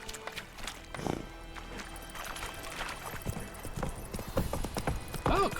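Horse hooves clip-clopping at a run in The Witcher 3, a rapid close rhythm of hoofbeats with a neigh near the end, game sounds under it and no speech.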